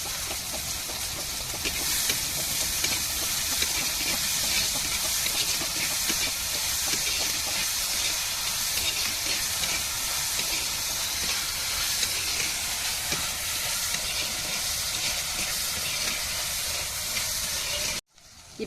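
Onions sizzle and sauté in a pan for Tamil-style macaroni pasta, a steady loud frying hiss that runs unbroken for about eighteen seconds before cutting off abruptly, with no talking.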